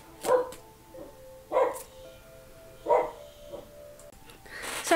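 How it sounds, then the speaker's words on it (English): A dog barks at a package delivery in a few loud, separate bursts about a second apart, each with a ringing tail, alone in a quiet room. "My dog was barking."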